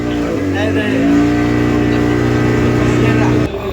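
A water ride vehicle in Goa sets off, its engine droning in a steady harmonic hum that swells as it pulls away and then cuts off abruptly, close and loud, with voices mixed in.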